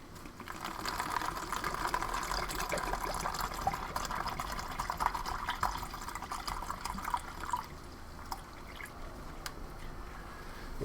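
Water being poured into a cup up to a 250 ml fill line for a Canadian military ration drink, a steady trickling and splashing flow with a few drips that runs continuously throughout, fairly quiet and with no talking.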